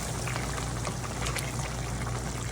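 Water poured into a pot of chickpeas with mixed seasonings, then cooking, giving a steady close hiss and low bubbling with faint pouring streaks, no talk.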